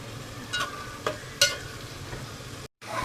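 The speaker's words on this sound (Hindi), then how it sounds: "साथ में ये जो हमारे मसाले हैं ये हम इसमें डाल देंगे और हम इसको 2 मिनट के लिए थोड़ा भूनेंगे।" Spices and tomato fry in oil in a pan for aloo methi, a soft continuous sizzle broken by a few sharper scrapes of a spoon stirring, moderately close.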